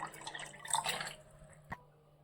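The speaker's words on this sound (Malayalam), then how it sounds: "എത്ര ആവശ്യമാണോ അത്രയും വെള്ളം നമ്മൾ ഇതിൽ ഒഴിച്ചു കൊടുക്കുന്നുണ്ട്" Plain water poured into a container of lime juice mix, a brief, quiet splashing trickle that fades, followed by a single soft knock, with no talking.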